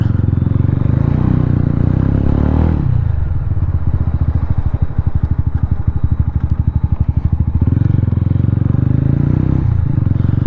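A Mahindra Mojo 300 motorcycle engine runs close by, a loud steady thrum that settles into a rapid pulsing idle mid-clip before rising again, with no talking over it.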